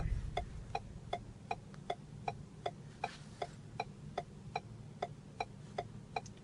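Hazard warning lights of a 2015 Ford Edge tick steadily, a quiet, regular relay click repeating roughly every third of a second over a low cabin hum, with no talking.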